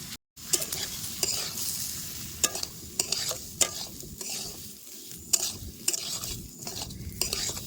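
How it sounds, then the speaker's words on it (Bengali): Bulgur wheat (dalia) being fried and stirred in a pan with already fried vegetables for a khichdi, giving a steady sizzle with repeated sharp scrapes and clinks of a spoon against the pan, close and alone after a brief silent gap at the start. "ডালিয়াটা একটু ভাজা ভাজা করে এর মধ্যে আমি ডাল দিয়ে দেবো"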